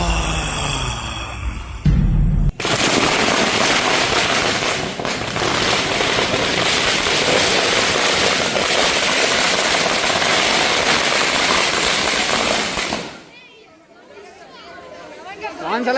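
Dense, continuous barrage of firecrackers bursting at a Ravan Dahan Dussehra celebration, loud and sustained for over ten seconds before tapering off, with crowd chatter and voices around it.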